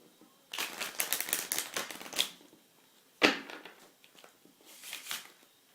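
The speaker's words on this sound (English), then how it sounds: "give your cards a good shuffle up" A deck of playing cards being shuffled in several riffling bursts, a long rustling run followed by two shorter flurries, close and crisp with no talk.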